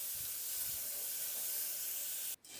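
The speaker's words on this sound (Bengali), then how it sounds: "তো আমি আগে থাকতে একটু ভেজে নিচ্ছি" Papaya and potato pieces fry in a pan with a steady, even hiss of oil that continues throughout, broken only by a brief dip just before the end.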